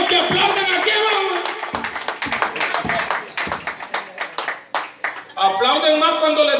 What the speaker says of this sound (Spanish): Pues hay hermanos que aplauden aquí